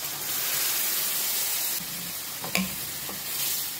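Coconut milk is poured into a pan with shrimp and simmers, giving a steady close hiss and sizzle. A brief clatter of utensil stirring comes partway through.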